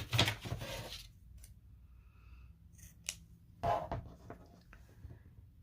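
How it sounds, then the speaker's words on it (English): Scissors snipping yarn during crochet work, a couple of short, close, quiet cuts with small handling rustles between them and no talking. "we're going to cut our yarn"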